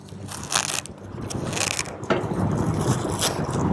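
Velcro strap torn away from the sail protection cover aboard an Alubat sailboat, a rough ripping scrape that comes in several bursts and runs fairly close and loud, with no talking.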